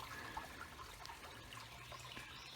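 Outdoor running water at a nature spot, a faint, steady rushing trickle with no pauses and no voices.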